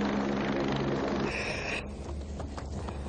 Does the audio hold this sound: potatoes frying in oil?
no